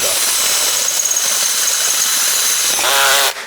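A loud power drill whines continuously at high speed while piercing a housing, then its pitch shifts and it winds down abruptly near the end.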